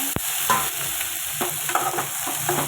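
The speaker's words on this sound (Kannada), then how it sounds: "ಟೊಮೆಟೊ ಹಾಕ್ಕೊಂಡು ಚೆನ್ನಾಗಿ ಫ್ರೈ ಮಾಡ್ಕೊಬೇಕು." Tomato frying in a pan for masala dosa, with a steady sizzle under scattered scraping strokes of a spatula stirring close by.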